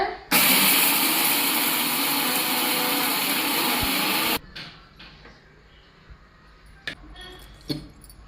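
A mixer grinder runs at full speed on black urad dal idli podi with salt, a loud steady whir for about four seconds that cuts off abruptly, followed by quiet clinks of the jar and lid.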